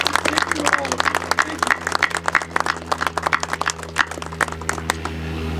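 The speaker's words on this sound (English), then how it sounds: "A round of applause for everyone that helped make this day happen." Audience applause at an outdoor ribbon-cutting ceremony for a new jet run-up and compass calibration pad at a St. Louis airport, a steady patter of many hands clapping over a constant low engine-like hum.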